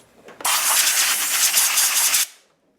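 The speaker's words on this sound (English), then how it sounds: "Helps if you have compressed air." Compressed air blasting dirt off the fuel tank top plate of a 2008 Harley-Davidson motorcycle: a single loud, close, steady hiss lasting about two seconds that cuts off abruptly.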